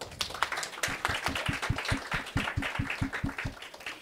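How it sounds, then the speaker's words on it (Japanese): An audience welcomes a speaker onto the stage at the International Education EXPO in Tokyo, with a steady run of clapping carrying a regular beat of sharp, moderately loud claps that continues through the whole stretch. "どうぞ皆様大きな拍手でお迎えください"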